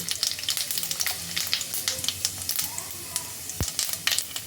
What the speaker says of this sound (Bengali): এবার আমি এই তেলের মধ্যে ফোড়নগুলো দিয়ে দেব প্রথমেই দিয়ে দিচ্ছি গোটা জিরে